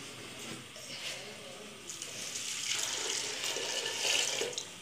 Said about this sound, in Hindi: ये हमने 2 गिलास के करीब पानी शामिल कर दिया है।